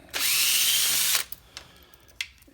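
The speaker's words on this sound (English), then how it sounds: "we're just going to remove the two 8mm bolts that hold the alternator chain tensioner" A power drill or impact driver runs one steady, loud burst of about a second while backing out 8mm bolts from a motorcycle's alternator chain tensioner, followed by a few short, quieter clicks and clunks.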